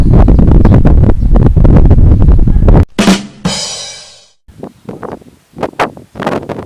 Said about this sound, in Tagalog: Naka-off po yung wind noise reduction nya. Malakas yung hangin.